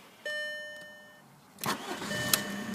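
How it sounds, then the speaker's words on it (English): A green Volkswagen Passat SE with a manual diesel engine, opening on a warning chime, then the starter cranks briefly and the engine catches first time and settles into a steady idle, close by. "as you can hear, no problem starting the vehicle, starts first time."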